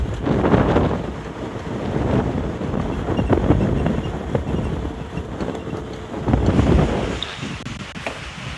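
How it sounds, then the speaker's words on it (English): Strong gusting wind on an African safari buffets the microphone in loud, rumbling surges that swell and ease over several seconds, with rustling in the background. "My goodness, this wind is strong"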